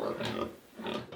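Pigs on a small farm grunt and squeal in two short, close bursts, loud and alone with no talking.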